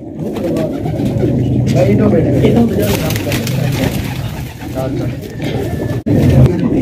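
Colorful fancy pigeons on a rooftop coo in low, soft, continuous bursts close by, while someone talks over them.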